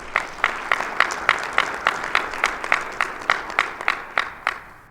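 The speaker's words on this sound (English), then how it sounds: "So a round of applause for them as well." Audience at a mayor's state of the city address claps in a steady, rhythmic pattern, about three sharp beats per second at moderate loudness over light room noise.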